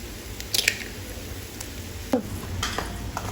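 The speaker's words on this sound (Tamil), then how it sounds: "நான் இங்கே 2 முட்டை ஊற்றிருக்கேன்." Two eggs are poured into a pan of hot oil while making a tofu chapati roll, giving a soft, quiet sizzle with a few brief squishy splashes.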